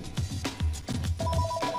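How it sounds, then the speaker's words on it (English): A telephone rings repeatedly while a Pokemon Channel game plays, the electronic ring tones steady and fairly loud over busy game sounds with a voice in the background. "Could you shut up, phone?"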